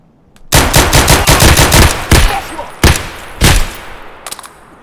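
Automatic gunfire crackles in the shooter game Escape from Tarkov. A loud, rapid burst of about a dozen shots is followed by several single heavy shots, each with a short decaying echo.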